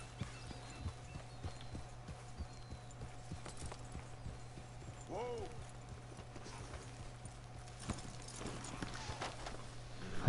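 Horse hooves clip-clop at a steady walking rhythm in the Red Dead Redemption 2 video game, moderately close, with a faint whinny partway through and people talking over the hoofbeats.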